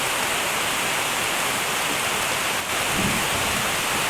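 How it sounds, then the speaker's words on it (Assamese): Heavy rain pours down in Golaghat, Assam, a dense, even rushing roar that holds steady throughout, with no one talking. "বহুত ডাঙৰ বৰষুণ দি আছে।"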